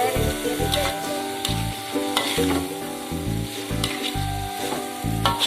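Water hyacinth stir-fry sizzles loudly and steadily in a pan, broken by repeated rhythmic scraping strokes as it is stirred, with no talking over it.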